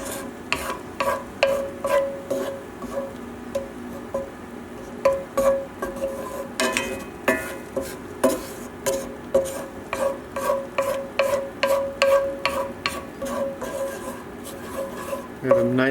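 A utensil scrapes and circles steadily through green peppercorn sauce in a pan, producing rhythmic, close scraping strokes over a faint sizzle, with no talk.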